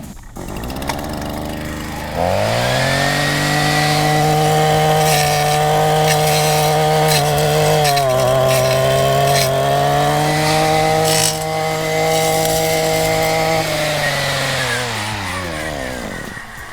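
A chainsaw runs at steady high revs for several seconds, then the blade and engine wind down slowly toward a stop, loud and close with no talk, during trail-building work.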